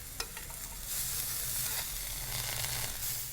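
Beef steak sizzling and frying in a pan with garlic cloves and butter, a steady close crackling hiss with stirring noise and a brief clink near the start, no talk.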